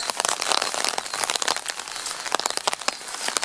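Steady rain patters on a surface, a dense crackling hiss with scattered louder drops, heard up close with no voices.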